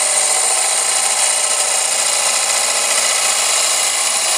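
A wood turning tool cuts across a spinning workpiece on a lathe, making a loud, steady, close hiss and scrape that holds evenly from start to finish.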